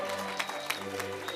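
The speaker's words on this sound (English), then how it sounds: "A round of applause, ladies and gentlemen." Applause at a City of Johannesburg graduation ceremony for a skills development programme: a brief, steady wash of clapping from a crowd, moderately loud, with a faint tonal hum underneath.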